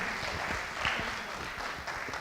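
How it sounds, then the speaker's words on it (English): Applause from an audience at a memorial livestream event forms a steady, dense clapping wash heard throughout, with faint voices murmuring underneath. "Another round of applause for her, please."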